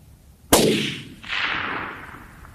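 A single sharp rifle shot from a custom Tikka 7mm SAUM firing 180gn ELD-M rounds at long range. The loud crack trails off, and about a second later a fainter rolling boom follows and fades.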